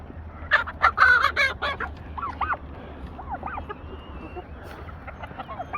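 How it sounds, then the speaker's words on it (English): Several turkeys gobble and cluck in a burst of loud calls, then quieter scattered warbling yelps follow over a low background hum. "Poor old turkeys, look at them."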